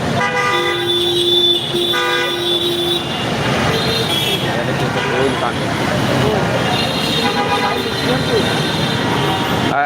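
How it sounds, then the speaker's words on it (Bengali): Vehicle horns honk in long, blaring tones over a constant loud roar of busy Dhaka traffic with CNG auto-rickshaws in rain, with a voice faintly in the din. "বাংলাদেশের শব্দ দূষণের মাত্রা হর্ন যত্রতত্র হর্ন এগুলো চলেই থাকে"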